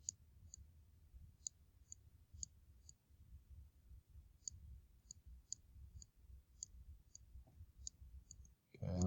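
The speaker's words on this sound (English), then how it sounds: "I'm writing with my mouse" Computer mouse clicks scattered irregularly over a quiet room hum, single and double taps at close range while writing out quadratic word problems on screen; a brief thump at the end.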